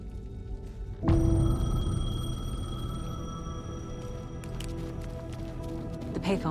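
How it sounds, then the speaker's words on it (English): Payphone ringing in the video game Alan Wake 2, an abrupt bell-like tone with lingering metallic overtones that sustains and slowly fades over a quiet ambient background. "The payphone was ringing."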